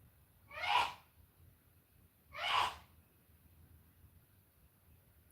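Two distinct sneezes spaced about two seconds apart, fairly close and clear over a quiet room background, with no talking.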